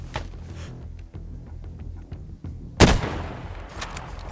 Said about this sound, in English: One's shooting a zombie.